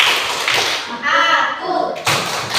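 A class of children performing a rhythmic clapping chant, sharp group claps alternating with chanted voices, loud and close in a classroom.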